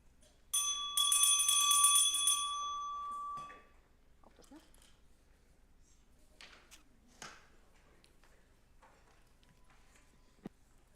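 At a Reykjavík city council meeting, the council president rings a bell in a bright, sustained clanging burst lasting a few seconds, followed by quiet room noise with scattered small knocks and shuffles.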